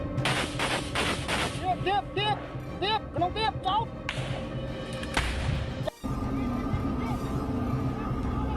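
Mobile artillery firing near the Thailand–Cambodia border: a series of sharp, loud blasts and cracks in quick succession, with whistling or chirping tones between them, a sudden cut near the end, then a steady mechanical drone.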